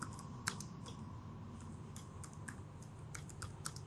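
Sparse keystrokes on a computer keyboard as code is typed, irregular light clicks with short pauses between them, close and fairly quiet over a faint steady background hum.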